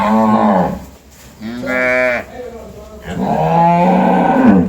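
A young dairy calf, about ten or eleven days old, moos repeatedly at a dairy cattle farm, three loud drawn-out calls close by with brief pauses, other cattle faintly behind.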